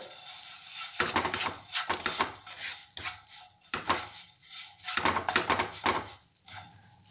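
A spoon scrapes and clatters in a pan as khoya melts with sugar, with repeated bursts of stirring and a light sizzle between them, close and clear, with no one speaking.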